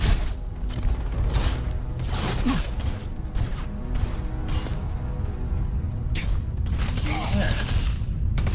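Repeated gunfire exchanges in Starfield, sharp shots and rattling bursts scattered across the stretch amid mechanical game sounds, moderately loud and close, with a voice speaking in between.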